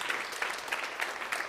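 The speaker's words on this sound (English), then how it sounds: "Please give them a warm applause" Audience applause from a crowd at a university discussion event on transatlantic trade, a steady wash of clapping with rhythmic swells, moderately near and without speech over it.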